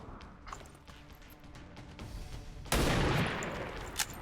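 Gunfire in XCOM 2 Long War of the Chosen, faint scattered shots at first, then a loud burst of weapon fire at mid-clip that trails off with one more sharp report near the end.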